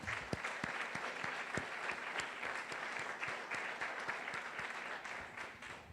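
A church congregation applauds during a Sunday service, with dense, continuous clapping from many people heard at a moderate distance, steady and unbroken.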